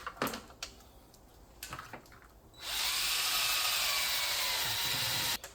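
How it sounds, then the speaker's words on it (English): A small wire brush spun by a drill scrubs a badly corroded battery terminal on a Santa Fe: a few light knocks and taps first, then a loud, steady, harsh grinding whir that runs for about three seconds and stops abruptly. "Little tiny wire brush on a drill goes right in there."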